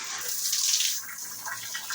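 Shower water running steadily, a bright close hiss of spray that swells briefly and then settles to a constant rush.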